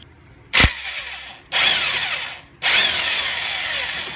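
A power tool rattles in three bursts, loosening bolts on a Nissan Altima CV axle during a wheel bearing repair: a short sharp first burst, then two longer buzzing runs about a second each, close with no speech.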